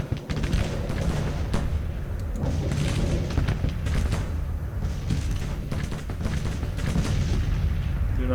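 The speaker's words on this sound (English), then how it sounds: "I'm seeing artillery burst above Evans" Artillery shells burst in a Civil War strategy game, a dense, continuous rumble of booms and cannon fire layered over one another at fairly high volume.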